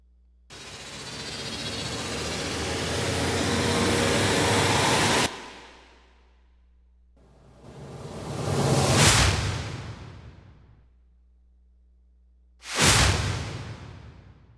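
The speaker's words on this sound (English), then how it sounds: "take a listen to a small section of the risers and whooshes combined together" Cinematic trailer sound effects: a long noisy riser swells for several seconds and cuts off abruptly, then two separate whooshes sweep in and fade, each loud and isolated with silence between.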